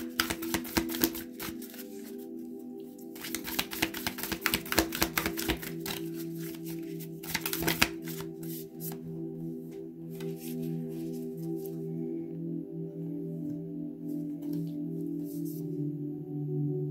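Oracle cards shuffled close by in repeated bursts of fast riffling clicks for the first eight seconds, then sparser light card taps over a soft steady background hum, with no talk.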